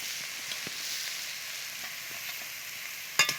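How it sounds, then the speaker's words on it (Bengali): Bottle gourd frying in ghee gives a steady, close sizzle, broad and even across the whole stretch, with a few faint stirring taps and a sharper clatter near the end; no one speaks. "এবার আমি দিয়ে দিচ্ছি লাউ। ঘিয়ে লাউটা ভেজে নিলে বেশ সুন্দর একটা সুগন্ধ বেরোবে"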